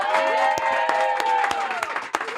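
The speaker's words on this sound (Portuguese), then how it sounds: "palmas para o meu amigo Thiago Nigro" Studio audience applauds a guest's entrance on a Brazilian talk show, clapping dense and steady under cheering, with sharp individual claps standing out and a lingering tonal musical backing throughout.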